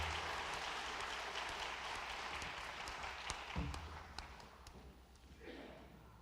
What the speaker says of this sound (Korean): 우리 꽃바구니 전달하실 때 우리 감사의 마음을 담아서 박수하도록 하겠습니다